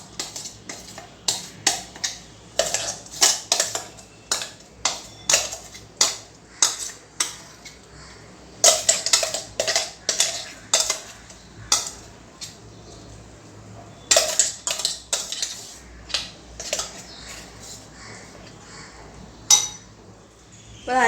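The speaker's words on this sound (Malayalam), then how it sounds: "നമ്മൾ അരച്ച് വെച്ച തേങ്ങ ഇതിലേക്ക് ചേർത്ത് കൊടുക്കാം" Ground coconut paste going into a pot of cooked papaya for pachadi, with repeated metal spoon clinks and scrapes against the pot in an irregular rhythm, close and fairly loud, no talking.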